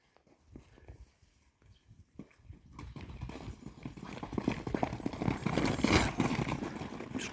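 A two-year-old Kyrgyz horse gallops on open ground, its hoofbeats starting as scattered thuds and building into a steady, louder drumming rhythm as it comes closer.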